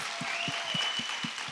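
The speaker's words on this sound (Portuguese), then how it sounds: "Uma salva de palmas para você que influencia criança." Audience applause inside a church, a steady wash of clapping hands at moderate volume with no voices over it.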